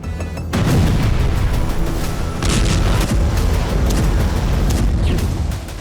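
Explosions from Ukraine war front-line footage around Sumy, Kharkiv, Donetsk and Zaporizhzhia: a sudden loud onset swells into a sustained, heavy rumbling roar that stays intense throughout.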